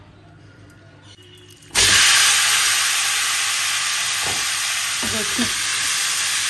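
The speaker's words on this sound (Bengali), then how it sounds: "ঘিটা গরম হলেই একটু এটা ফ্রাই করে নেব।" Grated carrots hit hot ghee and burst into a loud, steady sizzle that carries on continuously, with a few soft stirring scrapes and a brief voice just before the frying starts.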